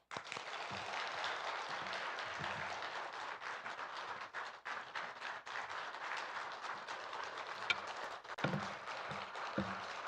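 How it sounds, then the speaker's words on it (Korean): Sustained applause from a large crowd, dense clapping holding steady for about ten seconds with a few louder claps near the end. "권호 목사님 나오셔서 말씀 증거하실 때 큰 박수로 모시길 바랍니다."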